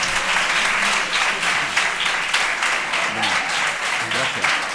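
A school audience at a culture and science week event applauds for Paco, sustained dense clapping at even strength through the whole stretch, with faint voices murmuring underneath.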